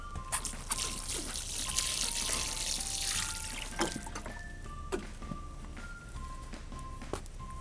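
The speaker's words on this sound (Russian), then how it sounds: "И поливаем водой." Water pours and trickles steadily onto soil around a newly planted hosta, a continuous splashing dribble close by, with a few faint thuds and clicks in the background.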